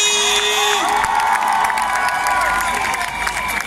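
Crowd at an outdoor Christian march event in Paris cheering and applauding, loud whoops and shouting voices mixed with clapping, sustained throughout.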